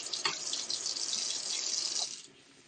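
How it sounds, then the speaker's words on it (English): Hands being washed in a kitchen sink under a running tap, a steady close rush of water that stops abruptly near the end, with no talk over it. "Wash my hands."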